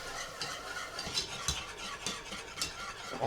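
Milk is stirred into a butter and flour roux for béchamel sauce in a pot, giving a continuous scraping, swishing stir with soft clinks of the utensil, close and steady without talk.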